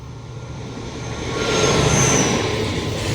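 Locomotive 666 hauls a freight train past, a loud, steady rumble that builds and peaks as it goes by, with a faint high whine above the roar.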